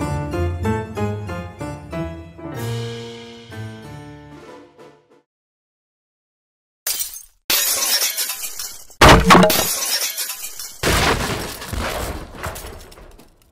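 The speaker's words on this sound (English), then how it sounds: "It sounds like glass breaking again!" Glass shatters in the Minecraft game after a music-box melody fades to silence, followed by several sharp, loud breaking crashes in quick bursts.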